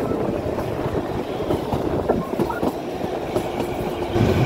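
Kalka to Shimla toy train running along the track, a close continuous rumble with rhythmic clickety-clack of wheels over rail joints, loud and steady without talk.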